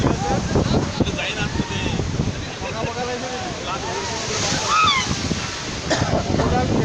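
Sea waves roll onto the shore at Mahabalipuram in a broad, rushing wash buffeted by wind on the microphone, while people chatter and call out nearby over the surf.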